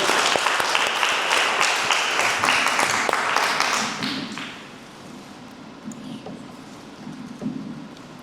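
Strong applause from an audience at an evening book presentation, dense clapping for about four seconds that fades out, leaving a quiet room with faint shuffling.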